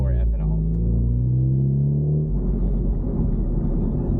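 A 500HP Honda Type R cruising normally, a deep steady engine rumble inside the cabin with a shifting tone, under someone talking.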